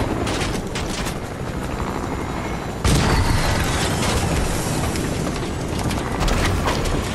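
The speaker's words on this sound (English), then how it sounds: "Oh, helicopter." A video game helicopter thrums loudly and continuously with dense rotor noise, a sudden louder surge partway through, and no speech over it.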